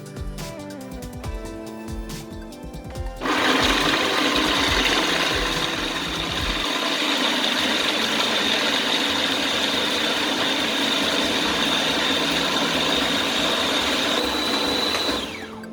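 A home food processor grinds hard rice grains into rice flour, starting after some clattering and then running as a loud, steady motor whir with a high whine that holds for over ten seconds.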